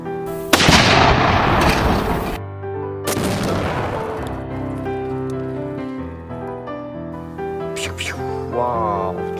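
Toy sniper rifle fires loud sharp bangs, two big blasts followed by ringing decay and fainter pops, heard alongside a busy background.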